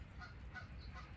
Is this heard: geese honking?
yes